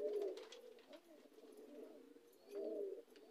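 A female pigeon coos softly in low, throaty phrases, with two fuller coos at the start and near the end and quieter murmuring between them, heard close in a calm setting with no talking.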